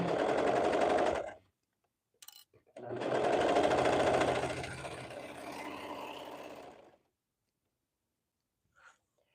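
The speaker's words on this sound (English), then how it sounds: "I'm just stitching." Sewing machine stitching a hoodie sleeve, a near, loud rapid whirring in two bursts with a short pause between, then silence.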